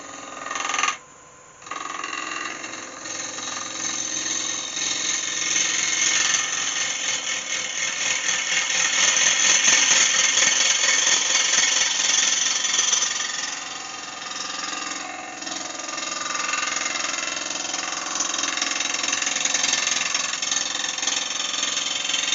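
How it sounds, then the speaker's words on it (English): Wood lathe making a light cut on a cherry bowl: a steady mechanical hum and whir of the spinning blank with a scraping tool contact swelling and easing, close and continuous, no talk. "So we only probably need just a very light cut just"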